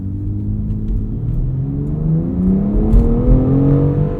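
A 2020 BMW X4 M Competition accelerates under steady throttle, its engine note climbing smoothly in pitch as revs build and the turbo comes on, heard loud and close from inside the cabin with a continuous road rumble.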